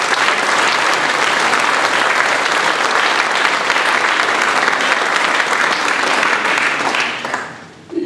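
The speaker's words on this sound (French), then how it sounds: "je pense que nous pouvons les applaudir extrêmement chaleureusement." A large crowd at a regional election campaign rally in Créteil breaks into warm, loud, continuous applause that holds steady before tapering off at the very end.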